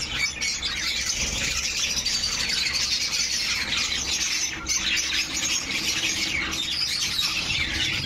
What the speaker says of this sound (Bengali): পাখিটির নাম বাজরিগর